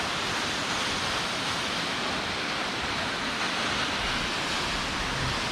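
Kaaterskill Falls, a waterfall that splits into two drops over rock, roars as a dense, steady wash of falling water, loud and close, with no voices over it.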